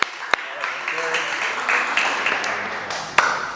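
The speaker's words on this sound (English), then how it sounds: "Let's give him a huge round of applause." Audience applause at a school talk as a volunteer is called up on stage, a dense steady patter of clapping under crowd murmur with a couple of sharp louder claps standing out.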